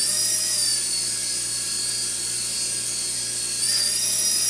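A Blue Sky Space Flyers auto-hovering toy drone flies indoors with a steady, loud, high-pitched propeller whine that holds constant and swells slightly near the end.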